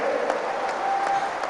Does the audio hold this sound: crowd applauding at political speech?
yes